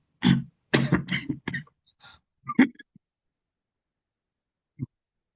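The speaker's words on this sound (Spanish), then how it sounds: "Caray, esta tosecita." Several harsh coughs and throat-clearing bursts come in a short cluster, followed by a single faint cough after a pause, in a quiet room.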